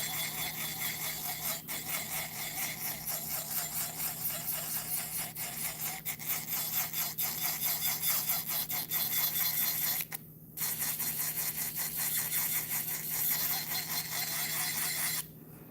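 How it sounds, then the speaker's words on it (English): An acrylic nail is filed by hand with a steady run of quick, raspy back-and-forth strokes, close and fairly quiet, with a brief pause near the end. "Also, when you're filing"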